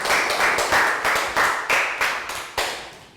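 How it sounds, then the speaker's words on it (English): A small group of Year 3 pupils in a math classroom claps together in a series of roughly rhythmic bursts, with each rapid burst fading before the next, and no speech over it. "Round of applause for Pang Pon."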